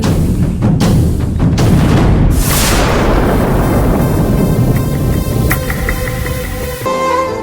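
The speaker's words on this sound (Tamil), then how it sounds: "இங்கதான் இன்னைக்கு பட்டாசு வெடிக்க போறோமா?" Firecrackers burst in rapid succession outdoors before Diwali, loud cracks and booms overlapping into a dense, continuous crackle with a few sharper pops near the end.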